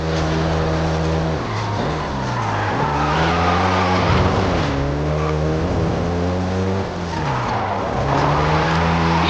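Volkswagen Golf GTI in the Forza Horizon 5 racing game, its engine loud and close, revving up and down through gear changes with tire squeal over a steady drone.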